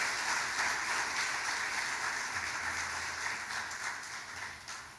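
A church congregation claps together in dense, sustained applause that fills the room at a steady level, with no voices clearly standing out.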